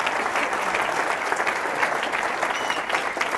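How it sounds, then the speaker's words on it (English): A comedy club audience at a stand-up economist's show breaks into dense, continuous applause, a loud, even wash of many hands clapping at once for a few seconds. "First of all, you can give me a round of applause"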